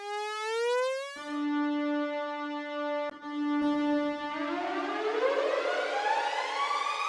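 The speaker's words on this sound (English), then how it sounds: "if you change the synth to the legato mode, the notes will kind of slide between each other like this" A Logic ES2 synth with a siren-like tone plays legato notes that glide fully into one another, a bright sustained whistling pitch sweeping up and holding, then rising again in a long continuous slide.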